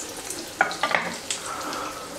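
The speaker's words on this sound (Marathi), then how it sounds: "आळूच्या वड्या ह्या जी वड्या आहेत तुम्ही लो फ्लेमवरच फ्राय करा" Alu vadi fry on a low flame, a soft, quiet sizzle punctuated by a few crisp pops and light clicks.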